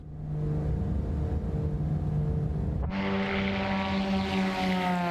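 The propeller engine of a Black Square Grand Duke in MSFS 2024 drones steadily, then rises abruptly into a louder, brighter full-power roar for takeoff, sustained to the end.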